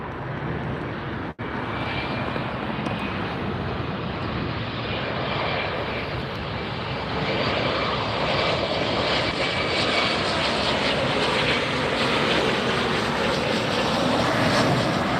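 A Southwest airliner arriving at LAX, its engine roar broad and steady throughout, loud and close with a slight swell toward the end, no talk.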